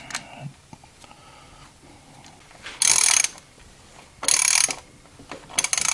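Ratchet clicking in short bursts while tightening a PCV valve on a 2014 Kia Forte 2.0 engine, three brisk rapid-fire runs of clicks close up with quiet pauses between.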